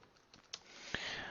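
Typing on a computer keyboard while entering a vanitygen.exe command for a bitcoin address generator, heard as a few faint, sparse key clicks close by with no talk.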